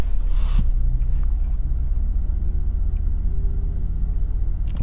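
Steady low engine rumble from a 2019 Kia Stinger GT1 RWD, heard from inside the car as a continuous, fairly loud drone with no talk and only faint shifts in pitch.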